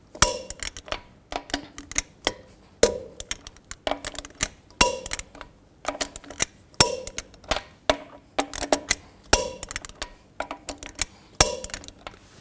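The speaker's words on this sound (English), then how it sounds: "Now I'm going to torque these lug nuts to 140 foot-pounds in a star pattern to tighten the wheel down evenly" A torque wrench tightens lug nuts to 140 foot-pounds in a star pattern on a 2000-06 GMC Yukon wheel, giving close, sharp metallic clicks and clanks in steady repeated bursts, with no talking.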